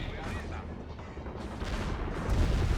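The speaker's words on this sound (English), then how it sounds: "Incendiary bomb working as planned." Heavy, rumbling explosions and crackling blasts from an incendiary bomb attack in the World in Conflict video game roll continuously, with a dense low-end boom swelling toward the end.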